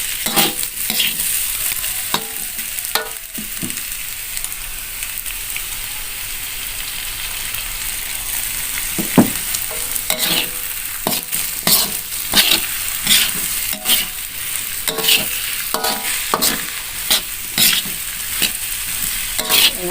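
Egg frying with sausage filling for lumpia-wrapper sambosa, a continuous close sizzle with frequent clattering stirs and scrapes of a utensil against the pan throughout.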